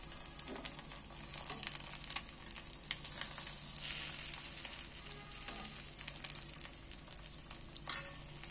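Egg batter fries on a paratha in a hot pan, giving a steady close sizzle with small crackles and pops throughout.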